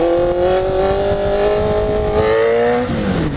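A Honda CB650F Hornet motorcycle engine revs loudly and steadily, its pitch climbing slightly then dropping near the end, close by with no talking; the bike is nearly overheating.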